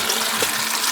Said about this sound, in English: as long as the water, the end of the water hose is below the level of the water in the tank, it'll flow